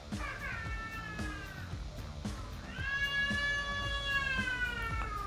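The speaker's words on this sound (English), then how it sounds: "That is the sound of my granddaughter pitching a fit" A young child wails and cries in long, rising and falling howls, loud and close, with a brief pause between two drawn-out bursts.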